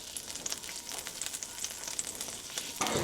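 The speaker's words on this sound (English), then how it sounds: "And it's going to melt. Let me just swirl it around the skillet here." Butter melts in a hot skillet with a faint, steady crackling sizzle that stays light and alone, a little stronger at the very end.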